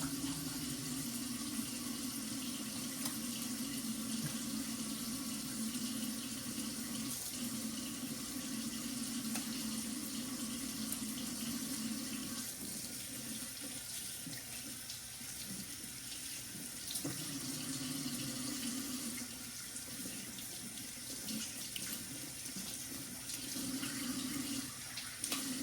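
Water runs steadily from a sink tap throughout, a continuous close rushing hiss with small shifts in flow and no talk.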